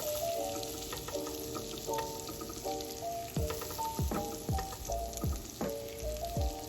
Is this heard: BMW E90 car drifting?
no